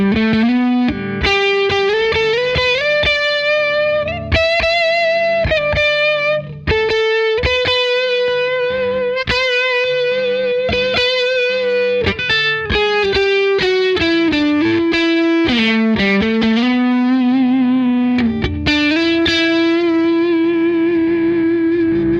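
Heavily distorted Harley Benton EX-84 electric guitar with EMG pickups plays chugging riffs and sustained chords through an Archetype Rabea amp simulator, with a processed, saturated tone, continuous and loud, with no voices.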